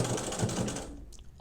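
A sewing machine runs a quick burst of stitching on a decorative cord, a close, steady rapid whir that stops abruptly just before the end.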